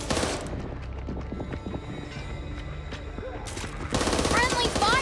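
Gunfire in a Back 4 Blood co-op match, continuous rapid shots and clattering close by, loudest in the final second, under frantic game activity and voices.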